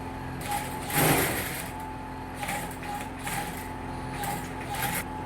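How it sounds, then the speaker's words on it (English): A sewing machine runs in several short bursts while stitching a jacket back vent, a close mechanical whir that starts and stops with brief pauses between runs. "I'll sew it down, come down by ½ inch and sew it up to this part."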